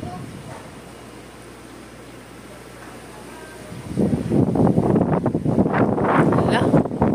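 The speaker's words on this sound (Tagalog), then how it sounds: "Sigang hangin, uy." Strong wind buffets the microphone outdoors with a low, rumbling roar, and gusts surge throughout. People start talking loudly over it partway through.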